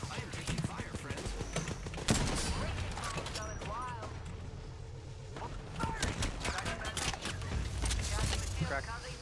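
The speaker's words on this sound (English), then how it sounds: "I am taking fire, friends." Gunfire in Apex Legends crackles in repeated rapid bursts and single shots, loud and close, with a voice talking over much of the shooting.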